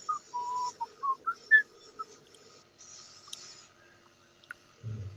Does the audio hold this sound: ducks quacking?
no